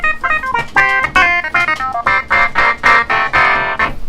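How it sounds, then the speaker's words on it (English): A Hohner Clavinet electric keyboard plays a funky, percussive part of short, bright, twangy chords in a syncopated rhythm, loud and close with no voices. "he plays it on this keyboard called a HOHNER CLAVINET"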